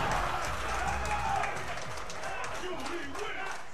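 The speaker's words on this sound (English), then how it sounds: "The crowd gets into it." Crowd at a Street Fighter IV tournament match in Melbourne cheers and shouts over a clutch comeback, a dense, sustained roar with voices clearly mixed in.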